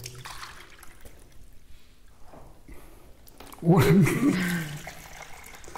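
Water is poured into a cylinder or cone, a brief splashing pour of a few seconds rising near the end, with people talking before and over it.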